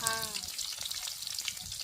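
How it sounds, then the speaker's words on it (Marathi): Onion hits very hot oil in a kadhai and sizzles loudly and close, a bright continuous crackle with small pops, after a brief voice at the start. "कांदा टाकून घेते कढई पण लई तापली"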